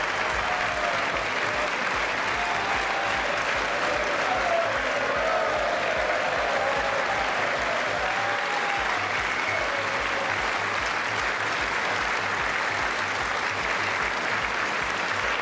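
Audience applause from a played video, steady and dense for the full fifteen seconds, with cheering voices and faint tonal sounds under the clapping.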